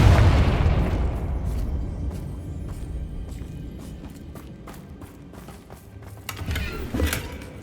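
A Confringo fire spell from the video game Hogwarts Legacy bursts with a loud booming blast that rumbles and fades over several seconds, followed by softer crackling hits and a second rise near the end.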